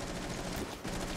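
A teammate's weapon fires faint, rapid bursts of gunfire during a Rainbow Six Siege match, distant and brief, with no one talking.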